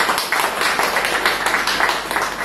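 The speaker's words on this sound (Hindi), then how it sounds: "जोरदार तालियां एक बार अपने लिए" An audience at a talk on cervical cancer screening and yoga groups claps together in a fairly loud, dense, continuous burst of applause.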